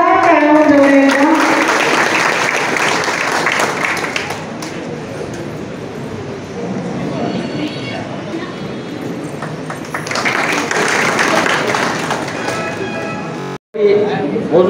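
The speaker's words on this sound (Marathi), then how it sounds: "जोरदार टाळ्या जोरात." A crowd at a cooperative credit society's annual general meeting claps in a long, dense burst of applause. A voice speaks briefly at the start, and the clapping swells again near the end.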